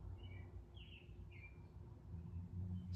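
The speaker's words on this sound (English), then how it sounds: "The best part though is that bird out there." Outdoors in springtime, a faint bird sings a few short chirping phrases at a distance over low background rumble and hum.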